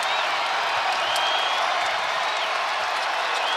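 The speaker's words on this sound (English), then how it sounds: "Crowd's trying to energize the home team" A college basketball arena crowd at Marquette vs St. John's roars steadily for the home team, a dense unbroken wall of cheering and applause that stays loud throughout.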